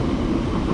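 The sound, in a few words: train crossing a bridge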